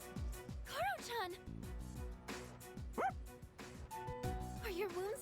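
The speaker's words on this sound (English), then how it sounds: "Dog!" A dog in the video game Persona 3 Reload gives several short, clear barks and whimpering yips at close range, spaced a second or two apart, mixed with game music and a voiced character.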